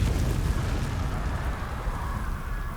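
A Confringo spell blast in Hogwarts Legacy produces a dense, rumbling explosion that roars steadily for a few seconds. It is loud and close, with no voices over it.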